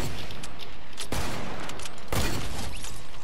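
Gunfire from the Fortnite video game: dense, loud rapid shots rolling continuously, with three heavier blasts standing out at roughly one-second intervals.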